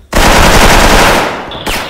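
A loud, close burst of rapid automatic gunfire in a video game rattles on continuously, then cuts off sharply and gives way to a short ringing tone and one brief further shot.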